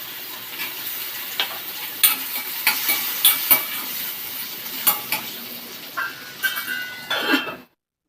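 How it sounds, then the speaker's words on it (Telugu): Chopped onions and tomatoes frying in oil left from frying cashews in a home kitchen, a steady sizzle broken by repeated stirring scrapes and metallic clinks of a spoon against the pan, ending abruptly. "కాజు ఫ్రై అయిపోయిన తర్వాత అదే ఆయిల్లో టమాటా అండ్ ఆనియన్స్ వేసి ఫ్రై చేసుకోవాలి"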